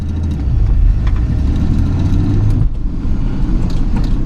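A Nissan 300ZX pulls away in first gear on its first drive in 13 years, its engine a steady, loud low rumble close by that dips briefly partway through, with no talking.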